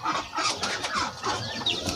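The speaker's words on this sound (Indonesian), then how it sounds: "Nih ayamnya." A chicken clucks nearby in a short run of uneven, throaty calls, moderately loud and close.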